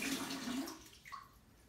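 Water spraying briefly from a TUSHY Classic bidet attachment fitted to an Australian toilet during a first test, a short soft hiss that fades within about a second.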